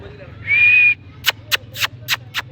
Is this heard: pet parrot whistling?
yes